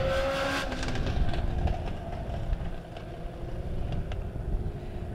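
Legend race cars circle the Springfield Raceway dirt oval on opening night, their engines droning in a steady, broad mechanical roar that swells and dips slightly as the pack runs together at a moderate distance.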